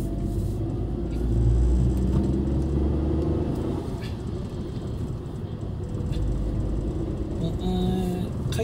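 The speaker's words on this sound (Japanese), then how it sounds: "回転数の方はね、あまりターボを効かせないように、ゆっくりとね加速していきたいと思います。" A car with a K6A turbo engine accelerating gently on a road, giving a steady low engine rumble and road noise that swells slightly and holds throughout.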